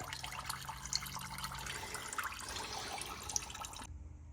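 Fluid trickling and dripping from the drain of a BMW E46 ZHP during a turbo build, a steady faint liquid flow with a few drips, ending abruptly in near silence.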